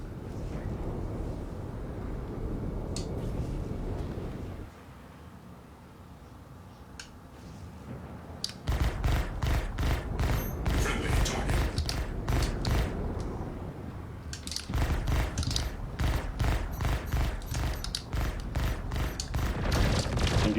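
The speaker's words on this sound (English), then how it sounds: "Firing missiles." Video game missile launches sound as rapid bursts of repeated booming fire, two long loud barrages separated by a quieter rumbling stretch, dense and continuous with no speech over them.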